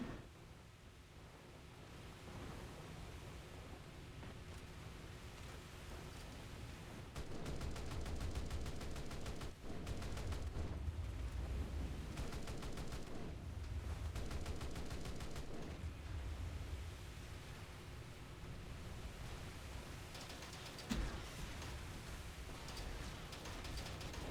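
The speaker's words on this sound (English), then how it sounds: "That explosion actually took out my engine." Naval combat in War Thunder brings rumbling explosions and bursts of rapid gunfire over a constant roar of engine and sea, with heavier blasts clustered midway and a sharp impact near the end.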